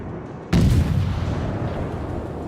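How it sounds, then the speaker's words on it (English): A Soviet Tier I cruiser Orlan fires its guns in World of Warships. A single loud booming shot cracks out, then a long rumbling tail fades slowly, heard alone with no talk. "We're gonna go full speed and fire 2 shells to greet this one."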